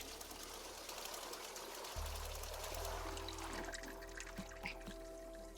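Water is poured into a teapot in Wanderstop, a soft steady stream with a faint rising hum beneath.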